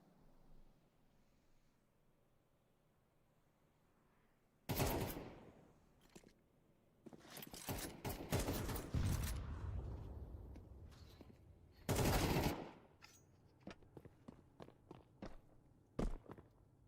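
Pistol gunfire rings out in a Counter-Strike match, with loud broadband bursts coming in clusters of rapid shots, a long sustained spray, then sparse single shots, alongside footsteps and quiet stretches.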